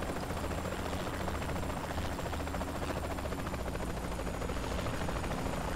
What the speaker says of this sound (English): My helicopter's very on fire.